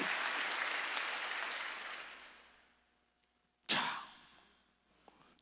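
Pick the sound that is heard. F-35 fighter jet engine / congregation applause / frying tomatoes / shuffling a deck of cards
congregation applause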